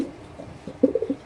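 Caged racer and fancy pigeons coo nearby, the sound building into a quick run of throaty pulses toward the end, with no voices.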